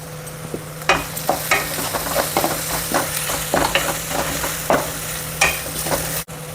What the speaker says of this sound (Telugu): ఇది పచ్చివాసన పోయే వరకు ఫ్రై చేయాలండి.